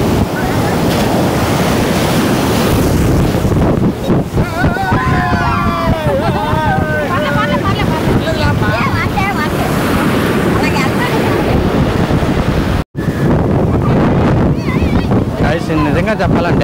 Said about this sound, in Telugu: చాలా ఫాస్ట్గా వస్తుంది వాటర్. కెరటం అయితే చాలా రోజుతో పడుతుంది